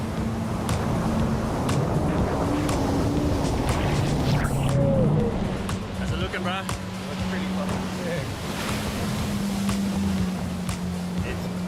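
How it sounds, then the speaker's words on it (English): A jet ski ride out on the ocean off Hawaii, a steady engine drone with water and wind rushing past, continuing beneath casual conversation between two men throughout. "Pamai takes me for a spin on the jet ski to check out the conditions up close"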